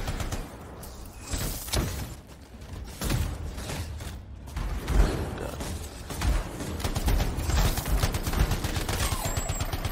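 Shotgun blasts and rapid gunfire in the video game Anthem, several loud, punchy bursts scattered unevenly over a dense, busy battle backdrop with clanking mechanical noises.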